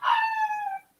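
A dog gives a single drawn-out howl, close and fairly loud, holding a steady tone for most of a second before fading, with no talk over it.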